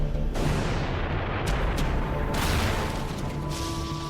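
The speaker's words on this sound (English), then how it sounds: "A catastrophic explosion at Chernobyl nuclear power station." Catastrophic explosion at the Chernobyl nuclear power station rendered as a sound effect: a sustained loud roaring blast with rumbling low end and several sharp bursts layered through, no voices.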